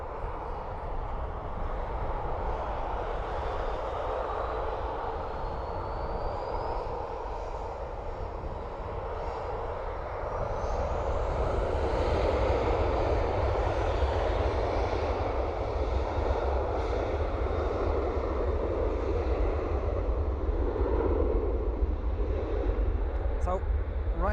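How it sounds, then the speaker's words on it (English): A Ryanair airliner takes off for London Gatwick, a steady broadband jet roar that swells and deepens about halfway through as the engines build, heard from a distance with a continuous rumble throughout. "Ryanair off to London Gatwick."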